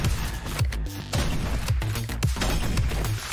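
Sharp gunshots from a roguelike first-person shooter video game, with several loud booming bursts and impacts over steady game sound and no speech.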